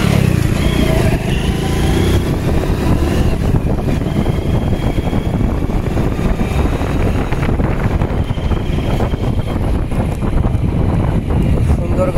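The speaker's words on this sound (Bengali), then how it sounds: "এখন কিন্তু বাইকের সাউন্ডও সম্পূর্ণ ভালো এবং কোনো ব্যাড নয়েজ নেই" A Hero HF Deluxe motorcycle engine, freshly tuned, runs steadily with a smooth, continuous rumble and wind buffeting across the microphone, loud and close throughout without speech.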